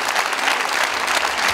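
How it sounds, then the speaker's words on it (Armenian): A concert audience at an Arena Live show bursts into loud, dense applause, a continuous close clatter of many hands with no talk over it. "ես բարձր ծափարում եմ ձեզ"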